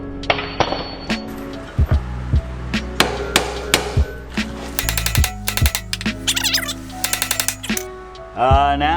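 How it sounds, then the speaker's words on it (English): A hammer bangs on a tie rod of a Nissan 240SX with an RB25 engine to knock it loose: a long series of loud, close metallic strikes, irregular at first, then quick clustered blows with ringing clinks. "You might need to bang it with the hammer to get it out"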